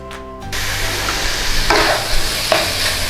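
Thai sweet pork (moo wan) frying in its own rendered fat in a pan while being gently stirred: steady close sizzle with scraping strokes of the utensil, a few brighter bursts of spatter, no talking.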